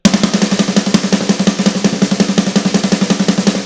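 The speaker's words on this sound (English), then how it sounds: "single stroke 16th notes on the snare" Fast, even single strokes on a snare drum in a steady sixteenth-note stream, loud and close, with no bass drum underneath.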